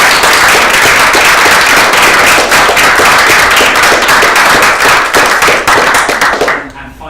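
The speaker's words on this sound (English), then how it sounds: "So we'll get a big round of applause for our speakers today." A crowd at an evening talk event gives a big round of applause for the speakers, a loud, dense burst of clapping that holds steady and then fades at the end.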